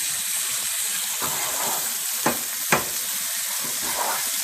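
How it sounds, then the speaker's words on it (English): Chopped onion stirred in a frying pan: a constant close sizzle with a couple of distinct spatula scrapes against the pan, no voices over it. "Just kind of get this all stirred around in the pan."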